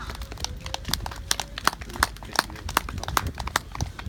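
Horse hooves striking the ground in a dressage arena, a steady series of sharp clip-clop footfalls at close range, with faint background noise between the steps.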